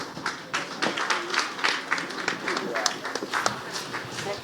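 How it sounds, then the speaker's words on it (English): A conference audience applauds with dense, uneven clapping that keeps going steadily, close and fairly loud, with a voice briefly over it. "Give her another round of applause, please."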